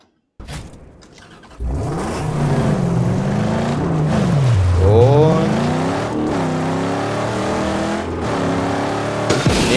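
Vehicle engine in the game Mad Max, a loud continuous motor drone that revs up and down with rising and falling pitch as the car drives, close and steady throughout with no talking.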